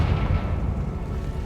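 Confringo blasting spell explodes in Hogwarts Legacy inside a decaying catacomb, a loud, close, rumbling boom that fills the whole short moment.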